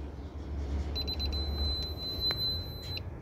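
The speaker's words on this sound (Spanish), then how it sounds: "va a ser un beep largo porque el sistema activa la alarma" A single long, steady high-pitched electronic beep from a DSC alarm system as it arms, starting after a moment and holding for about two seconds over faint background noise.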